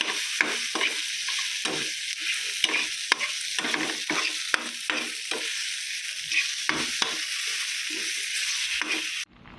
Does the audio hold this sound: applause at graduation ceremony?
no